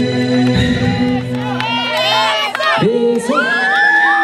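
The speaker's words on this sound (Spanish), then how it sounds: "fuerte el aplauso" Wedding guests cheer, whoop and shout loudly in a crowded hall, with children's voices rising over the din and a sustained noisy roar throughout.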